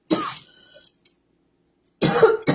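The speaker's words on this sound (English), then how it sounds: "Didn't have this little cough here again." A close, sharp cough followed by a pause, then another rough cough with throat clearing.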